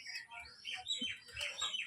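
Thin, high chirps from an abluk pigeon chick come in quick overlapping bursts, with soft low thumps and faint background noise beneath.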